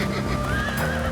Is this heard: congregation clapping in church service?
no